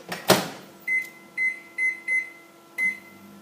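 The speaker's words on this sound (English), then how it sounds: "Put it in the microwave for about 20 seconds." A microwave oven heating bread hums quietly while a series of short electronic beeps sounds at irregular intervals.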